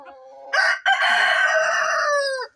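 A single long rooster crow rings out loud and close, rising sharply, breaking briefly, then holding a strained, drawn-out cry for nearly two seconds before cutting off, with no other voices.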